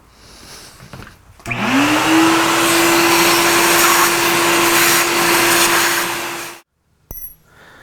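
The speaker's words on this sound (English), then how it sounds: "grab the vacuum." A shop vacuum switches on with a rising whine that settles into a loud, steady roar for about five seconds, then cuts off abruptly, used while machining soft, ductile cast material.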